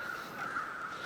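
Birds cawing in the winter survival game The Long Dark, a steady crow-like call that carries through the whole moment at moderate volume over faint wind, with no voices.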